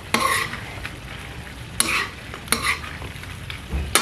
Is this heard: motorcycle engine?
no